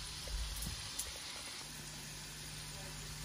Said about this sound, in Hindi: तो ये देखिए इस वक्त ये जो है फ्राई हो रहे हैं